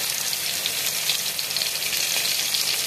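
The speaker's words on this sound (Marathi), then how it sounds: "अशी एक एक करून मिरची टाकायची त्याच्यामध्ये, म्हणजे तेलामध्ये छान परतल्या जाते मिरची" Green chillies fry in hot oil, giving a loud, steady, bright sizzle that hardly changes. There is no talk over it.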